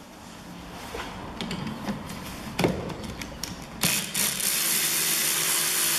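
A 16mm socket on a ratchet loosens the wiper arm nut on a Peugeot 5008, giving a close, repeated clicking of the pawl with a few knocks, ending in a brighter sustained rattle.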